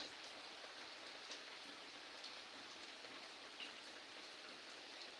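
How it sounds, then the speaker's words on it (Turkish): Steady rain falls and patters on surfaces nearby in Edirne, Turkey, a dense even hiss that holds without a break from start to finish. "Yine yağmaya devam ediyor ama ara ara atıyor arkadaşlar."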